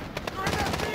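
Rapid gunfire bursts in a Modern Warfare campaign, a dense run of sharp shots packed into a single second, loud and close.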